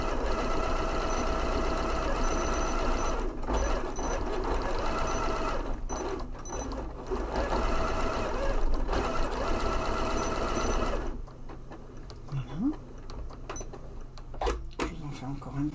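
A Janome 9480 sewing machine free-motion quilting, a steady mechanical needle whir that runs for about eleven seconds with brief pauses, then stops, while someone talks over it.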